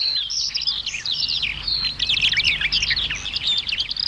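Birds sing in a forest, a dense, lively chorus of chirps and twittering trills running continuously from near and middle distance.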